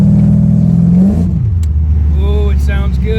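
A 420-horsepower 1988 Corvette with a 383 V8 pulls hard under acceleration. Its low, steady engine roar climbs in pitch, then drops to a deep rumble after a shift, with faint voices over it.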